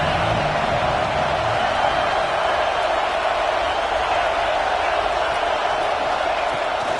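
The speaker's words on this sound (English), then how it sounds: "The crowd gets behind this defense." Stadium crowd at an American football game, Auburn at Arkansas, producing a steady, loud, unbroken roar of cheering with no clear pauses.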